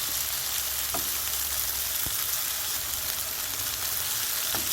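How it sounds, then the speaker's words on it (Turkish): Onions sauté in a pan with lentils added for a Turkish recipe, giving a steady, close crackling sizzle with a few faint stirring knocks. "Soğanın üzerine ilave edip kavurmaya devam ediyoruz."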